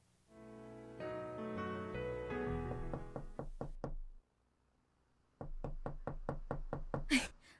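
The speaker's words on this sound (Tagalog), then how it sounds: "Sino ba yung kumakatok na yan?" Knocking on a door, with two runs of sharp, evenly spaced raps split by a brief silence, the first run fading out under a musical tone and the second ending in a louder hit.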